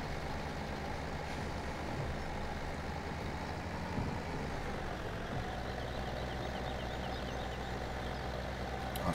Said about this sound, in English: This tractor is struggling a little bit.